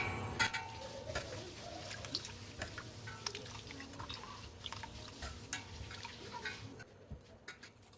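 Plum sharbat being poured through a strainer, quiet irregular drips and trickles of liquid patter through the sieve, with a few brief clinks.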